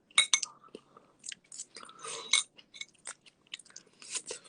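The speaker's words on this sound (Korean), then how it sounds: "내가 양파 먹고 있는 것을 왜 보고 있을까" Close, crunchy chewing of a roasted onion, with irregular bites and wet mastication sounds in uneven bursts and no speech.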